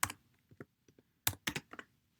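Computer keyboard typing in Cricut Design Space: scattered sharp key clicks, a few soft taps early, then a quick burst of several louder presses near the end, close and alone.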